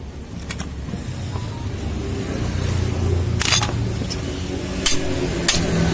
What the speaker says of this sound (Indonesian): Mungkin kita harus menggunakan palu ya.